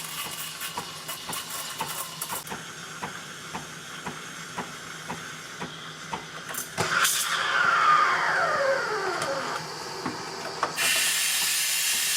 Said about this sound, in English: let's steam the milk and let's see what we get